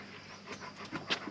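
Young guardian dog Hector pants in quick, breathy bursts close by, indoors in a home in Abruzzo, with a few sharper exhalations near the end and no talking.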